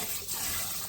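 Tap water running steadily into a sink or vessel while fish is washed for a village-style fish curry, a continuous close hiss and splash with no talking.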